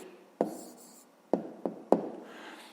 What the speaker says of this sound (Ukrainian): І записуємо відповідь.